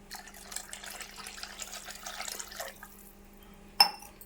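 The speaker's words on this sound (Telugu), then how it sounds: "ఇప్పుడు ఇందులో కొంచెం వాటర్ పోద్దామండి. చిక్కగా ఉంది కదా, కొంచెం వాటర్ పోస్తాము." Water is poured into a pan of thickened sea fish curry with a soft, close trickle lasting a few seconds, followed by quiet and a brief sharp clink near the end.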